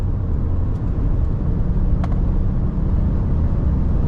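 A steady, loud hum from the 2.4-liter turbo gas engine of a 2024 Toyota Grand Highlander Platinum Hybrid MAX drones from inside the moving SUV, low and even, with no talking.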